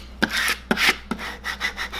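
A squeegee or credit card is rubbed firmly across transfer paper in a few short, close scraping strokes with brief gaps, quiet surroundings and no talking.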